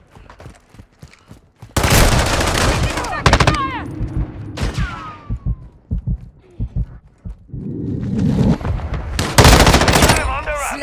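Loud automatic gunfire in Call of Duty: Modern Warfare II team deathmatch, dense bursts of shots separated by short gaps and single shots, with swooping whine effects in between.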